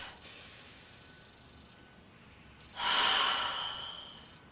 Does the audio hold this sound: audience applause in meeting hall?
no